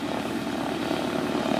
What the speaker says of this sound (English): 985 cubic inch radial engine